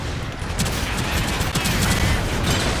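Cannon fire keeps hitting in a Gundam video game, making a dense, continuous barrage of booming impacts and rattling gunfire with sharp transients layered over a constant roar.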